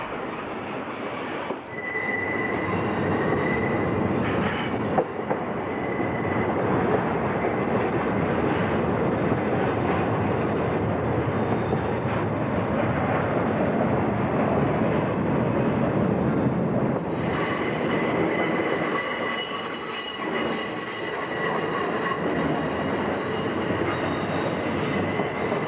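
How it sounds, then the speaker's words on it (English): A long freight train of railroad cars rolls past on the Boston & Albany line, a steady loud rumble with wheel squeal and clatter running throughout, close by. "At the end of the train are trailers carrying mail."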